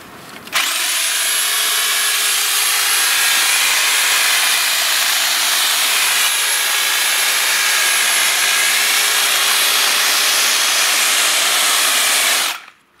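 A powered hedge trimmer shears a thuja hedge in spring, one long loud whining motor buzz with crisp cutting noise that starts sharply and stops abruptly after about twelve seconds, close by.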